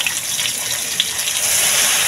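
Broth being poured into a cooking pot, a steady close splashing trickle of liquid lasting a couple of seconds with no voices.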